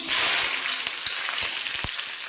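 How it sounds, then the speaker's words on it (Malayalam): Small onions, or shallots, fry with a loud, close hiss in an Indalium pan, with a few soft taps of a spoon. "നമുക്കിനി ഇതിലേക്ക് നമ്മുടെ ചെറിയ ഉള്ളി ഇട്ട് കൊടുത്തൊന്ന് മൂപ്പിച്ചെടുക്കാം"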